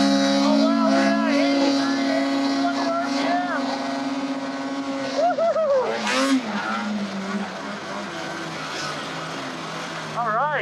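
A snowmobile fitted with an SLP clutch kit runs at full throttle through deep powder, its engine whine rising and sweeping in pitch continuously and loudly, with a person speaking over it.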